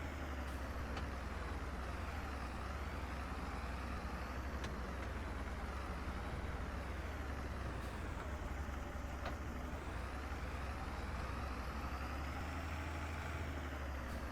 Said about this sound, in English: Little white tractor's kind of handy.